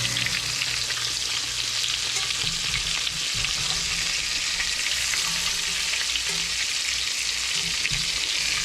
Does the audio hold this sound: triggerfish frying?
yes